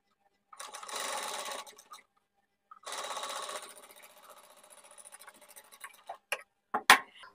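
A sewing machine stitching along the edge of a salwar cuff design, heard as two short close bursts of rapid whirring stitching separated by a pause, followed by a quieter run and a few sharp clicks and taps.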